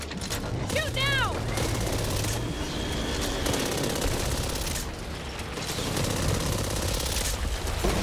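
Gunfire in the zombie shooter Back 4 Blood, dense automatic bursts and scattered shots running throughout at steady loudness, mixed with game effects and players talking over it.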